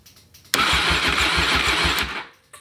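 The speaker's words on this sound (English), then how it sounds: "Let's see if it will spark when we go and crank the engine." A Honda VFR motorcycle engine cranks with a rapid, rhythmic chugging from the starter, loud and close, then cuts off abruptly after about a second and a half.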